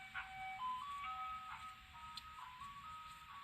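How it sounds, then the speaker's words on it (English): Melodic chimes from an ice cream truck play a looping jingle as it passes by, steady and moderately loud over faint background rumble. "Speaking of the ice cream truck, there it comes right now."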